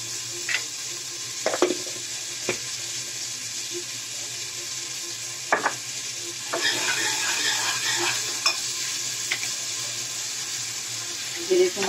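Onions frying in a pan, salted so they brown faster and cooked alongside finely chopped garlic and ginger, give a steady soft sizzle with occasional scrapes and clinks of stirring, moderately close and with no voice.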